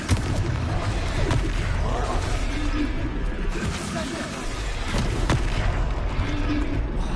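Confringo blasting spell explosions in the video game Hogwarts Legacy, repeated heavy booms and crashes rolling through loud, busy game noise, with a player's voice speaking over the action.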